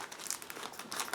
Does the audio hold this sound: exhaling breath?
no